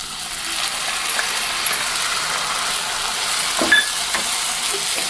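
Chopped tomatoes hit browned onions in a hot pan for kadai paneer, giving a steady frying sizzle with intermittent scraping stirs, close and continuous throughout.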